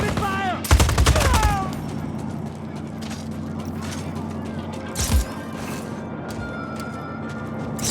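Gunfire in the Just Cause 4 video game: a loud burst of rapid shots near the start, then a sustained rattle of distant firing with another sharp blast midway, under a steady mechanical background rumble.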